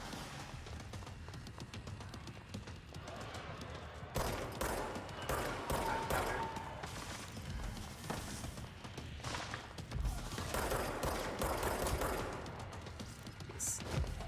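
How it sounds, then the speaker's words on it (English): Rapid gunfire rattles through the action game Control in repeated bursts, loud and fairly close, with heavier volleys at intervals across the whole stretch. "Someone shooting at me."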